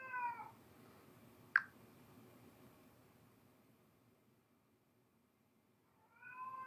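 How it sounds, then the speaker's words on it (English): A cat meows twice, once at the start and again at the end, with a short faint sharp sound between in an otherwise quiet room. "my cat's been meowing a lot,"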